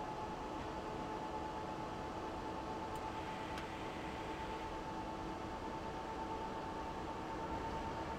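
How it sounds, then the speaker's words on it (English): ICE-3 high-speed train in Train Simulator 2018 on the Mannheim to Karlsruhe line, giving a steady, unbroken rolling rumble with a faint constant whine throughout. "It is the ICE-3."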